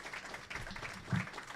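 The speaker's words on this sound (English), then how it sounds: "Let's give them a round of applause" An audience gives a round of applause, a dense wash of clapping from many hands heard throughout a brief moment.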